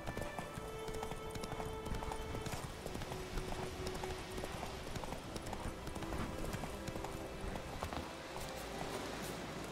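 The horse Roach galloping in The Witcher 3: Wild Hunt gives a steady, fast clip-clop of hooves that runs through the whole stretch at close range, with a faint whinny in places and a game soundscape underneath.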